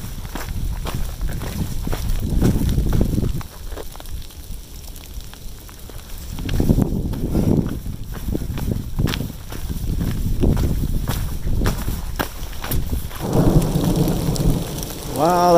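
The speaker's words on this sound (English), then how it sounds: "that is the heavy rain from North Mountain" Heavy rain pouring down on North Mountain along the Appalachian Trail, a steady dense hiss with repeated deep rumbling thunder rolls swelling and fading across the whole stretch.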